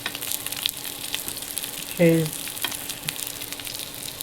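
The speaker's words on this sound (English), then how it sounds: "I'm frying while videotaping." Boneless danggit fish fry in hot oil with a continuous crackling sizzle throughout. A short voiced word breaks in midway, and faint clatter sounds nearby.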